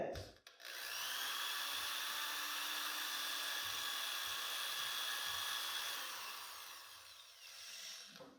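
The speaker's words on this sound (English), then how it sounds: "Maybe I need to drill a little more." A power drill bores a hole into a pumpkin, a steady high whine running for several seconds after a brief start, then winding down to a quieter tail.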